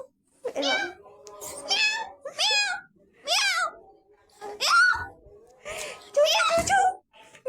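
A child imitates a cat with a string of about seven drawn-out, rising and falling meows, close and fairly loud, separated by short pauses, with a little giggling mixed in.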